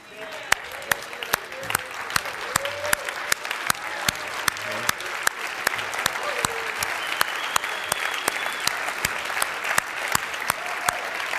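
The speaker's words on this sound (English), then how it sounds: "have you guys stand up and give yourselves a huge round of applause" A business seminar audience stands and gives a long round of applause, dense clapping with sharp individual claps and some cheers and voices mixed in, sustained throughout.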